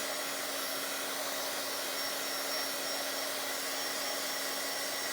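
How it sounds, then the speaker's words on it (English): A heat tool blows steadily to dry ink on a rubber stamp, a constant loud whirring hiss with an even hum that runs unbroken and alone. "I'm gonna dry that stamp too while we're at it."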